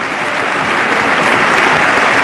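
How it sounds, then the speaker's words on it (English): A large audience at the 2014 State of the Union address claps in dense, sustained applause, loud and even from start to finish with no voices standing out. "everybody applaud."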